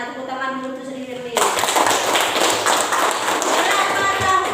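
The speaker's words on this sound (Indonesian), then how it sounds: "Tepuk tangan dulu untuk Sri Firly" A classroom of students breaks into applause for a classmate, a sudden burst of dense, steady clapping that starts partway through and continues to the end, with a voice heard just before it begins.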